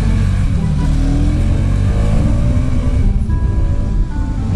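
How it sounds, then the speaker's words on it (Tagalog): A Kawasaki Rouser RS200 motorcycle engine runs loud and close, its rumbling note rising and falling with revs and a strong low-end growl, with no talking over it. "Malakas tong motor mo."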